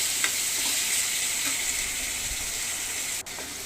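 Boiled chana dal frying in hot oil in a pan, a steady bright sizzle with a few soft stirring taps, close and continuous before a quick break near the end.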